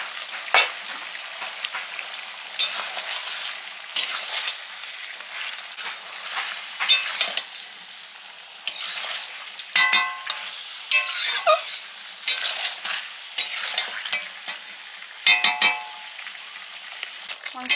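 Chicken sizzles in its own juices with ginger paste and crushed garlic as a spoon stirs it, steady frying hiss broken by repeated clinks and scrapes against the pan, close and fairly loud, no talk.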